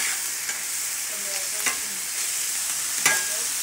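Ground beef frying in a pan makes a bright, steady sizzle, with three louder scraping strokes as it is stirred, and no one speaks.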